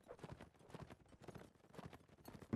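Rhythmic clip-clop of horse hooves at a steady trot in a video game, fairly quiet and close, with no talking over it.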